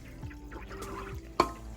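Brine shrimp water poured from a container into a home aquarium stocked with many fish, a short splash and trickle standing out over steady background water noise from the tank's current.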